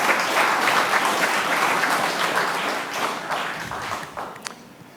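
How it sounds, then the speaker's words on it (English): A dense round of audience applause at a company product event fills the room, loud and sustained, then gradually thins toward the end. "So a round of applause for everyone."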